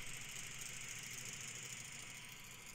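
In a flight game, an aircraft engine mounted right behind the pilot's head gives off a steady loud drone. The roar holds at an even level throughout, with no voices over it.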